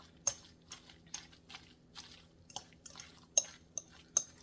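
A utensil stirring vegan shakshuka with tamari in a pan, a series of distinct scrapes and taps against the pan at an uneven rhythm, close and fairly quiet, no talking.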